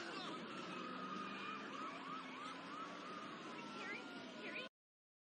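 Wailing police car sirens from the Gotham Knights TV series rise and fall continuously, loud and layered, with several sirens overlapping until the sound cuts off abruptly.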